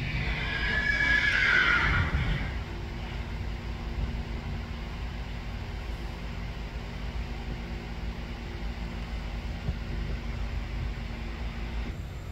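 A horse whinnies loudly once near the start, then a steady outdoor hiss continues with no more calls.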